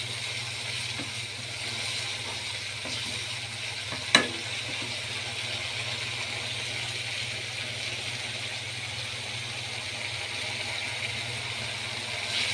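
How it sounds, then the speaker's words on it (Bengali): Spices sizzle gently in a pan while being cooked down for fried chickpeas, a soft, even frying hiss with one sharp clack midway and a faint low hum underneath. "এখানে বুট ভাজার জন্য মশলা পাতি কষাইতেছে"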